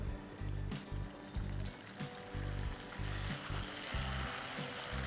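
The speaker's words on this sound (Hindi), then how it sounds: "अब हम इसमें डालते हैं आधा किलो बोनलेस चिकन" Half a kilo of boneless chicken goes into frying ginger garlic paste, giving a soft, faint sizzle with rhythmic low thumps and a watery crackle running through the few seconds.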